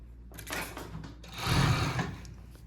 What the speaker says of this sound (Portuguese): nós vamos na overlock passar a costura para dar o acabamento aqui do tecido